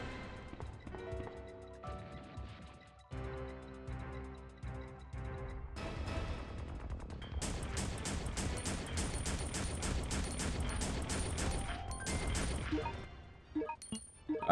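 Gunfire during a boss fight against Mr. X in the video game Resident Evil Survivor: sustained rapid shots and crashing impacts over a droning game soundtrack, steady and fairly loud throughout.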